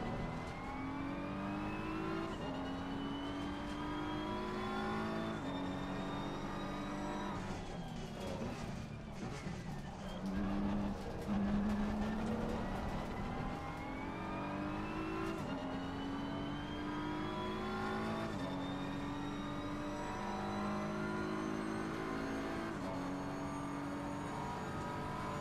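Race cars in a racing video game drone and whine steadily, engine pitch climbing and dropping with gear shifts as several cars pass, loud and continuous throughout.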